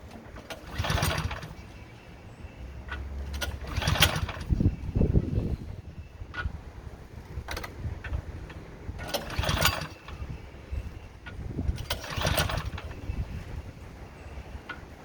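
A Craftsman snowblower engine tried repeatedly at start-up, heard as several separate bursts of pull-start cranking and sputter with quieter gaps between, at moderate distance with no talk.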